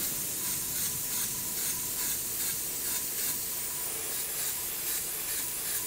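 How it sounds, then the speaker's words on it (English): An airbrush sprays paint onto an Air Force 1 sneaker, a steady close hiss of air and atomized paint that runs unbroken throughout, with faint pulsing as the spray moves and no voices. "And you can see the airbrush is taking well to the paint, which is good."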